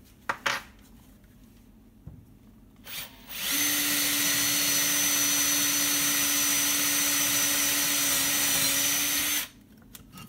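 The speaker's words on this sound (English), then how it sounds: "Step one is to drill a hole in the middle of the timber that the coach screw can fit in without grabbing onto the timber." A power drill bores a hole into a piece of timber, a steady high whine lasting about six seconds after a few short clicks and handling knocks, then stopping; no voices.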